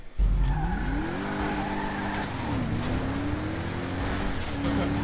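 A car in a GTA 5 video game race, its engine whining upward and dipping as it slides and skids, with a sharp start and steady driving noise throughout.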